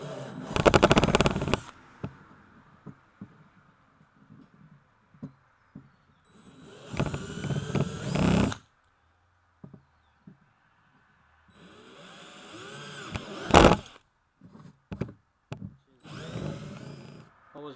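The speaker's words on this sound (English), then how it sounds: "So I'm going to go ahead and pre-drill these holes" A power drill pre-drills holes for the front hatch of a Jackson Big Tuna kayak, with several loud bursts of one to two seconds separated by quiet pauses and small clicks and taps.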